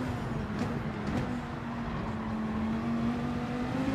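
Ferrari race car engine in Gran Turismo, a steady sustained drone with a rising pitch as it approaches from behind, mid-distance and unbroken throughout.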